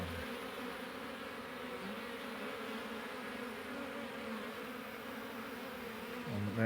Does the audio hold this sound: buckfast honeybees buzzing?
yes